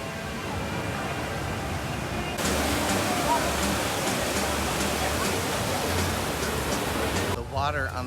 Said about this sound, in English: The water on the pathway here is a very positive idea.